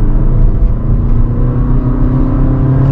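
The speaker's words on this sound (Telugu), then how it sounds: "ఇప్పుడు మన మాన్యువల్ మోడ్ లో ఉన్నాను, సెకండ్ గేర్ ఫ్లోర్ చేసేసాను." A Honda Elevate's engine revs hard with the throttle floored in second gear under manual mode, a loud, steady low drone that builds continuously without a break.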